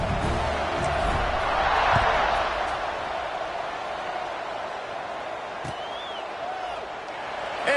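A roaring stadium crowd in a college football video game, a dense steady wash of cheering that swells around the second second, then holds at a broad, loud level with scattered whistles and shouts throughout.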